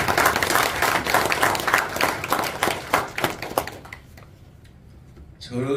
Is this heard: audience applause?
yes